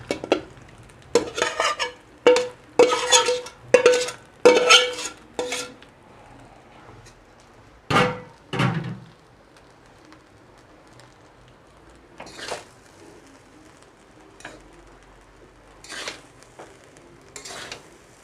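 Beans, carrots, prawns, egg and capsicum stirred into fried rice in a pan, a burst of loud rhythmic scraping and clattering strokes, a pause, then sparser, fainter stirs with a soft sizzle underneath and no voices.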